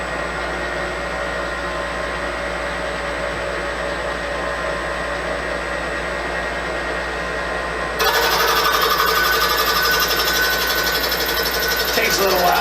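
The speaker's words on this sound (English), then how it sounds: "we're just gonna turn this on and drill a couple holes" A machine drilling holes into a log hums and grinds steadily, then shifts to a louder, harsher buzzing as the bit bites partway through, continuing as one unbroken mechanical drone.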